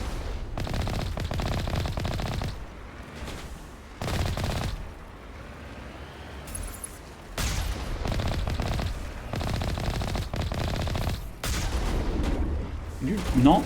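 Heavy vehicle-mounted gunfire from the Mako rover in Mass Effect: Legendary Edition on Xbox Series X, loud sustained bursts of rapid automatic shots separated by short breaks.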